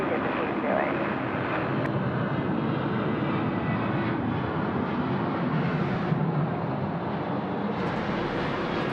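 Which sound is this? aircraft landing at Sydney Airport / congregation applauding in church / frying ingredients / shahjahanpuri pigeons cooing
aircraft landing at Sydney Airport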